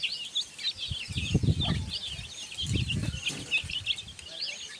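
Native gavran hens and chicks cheep and cluck on a poultry farm, with high peeping chirps running throughout and a few lower, louder clucks bunched in the middle.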